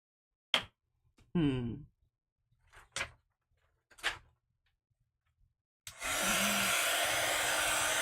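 A heat tool blasts hot air onto embossing powder on a gel print, roaring steadily in the last couple of seconds after a few short clicks and handling knocks.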